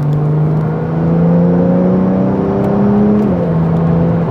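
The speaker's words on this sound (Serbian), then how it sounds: "Naravno, obrtaji se podižu" A Porsche 911 Turbo engine revs in Sport Plus mode on an open road, a steady loud drone climbing in pitch, dipping briefly near the end, then rising again, with no talk.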